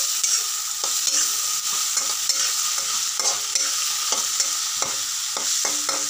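Chopped tomato and green chillies fry in a pan with a steady sizzle, while repeated clicks and scrapes of a stirring spoon sound up close.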